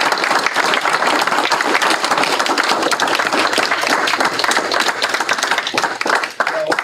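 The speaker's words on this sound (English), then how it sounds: "A nice round of applause." Audience at a school board of education meeting giving a warm round of applause to welcome a new special education director, dense and continuous clapping that stays loud for nearly seven seconds.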